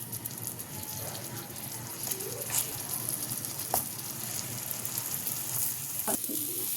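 Ridge gourd stuffed with spices sautéing slowly in a pan, a low steady sizzle with a few soft stirring clicks, while birds coo and call faintly in the background.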